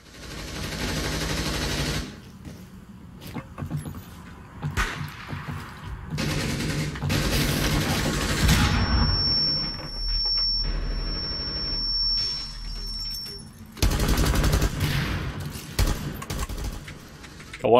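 Gunfire in Rainbow Six Siege rings out in loud bursts of rapid shots, broken by brief pauses and a high whine in the middle, with a final burst near the end.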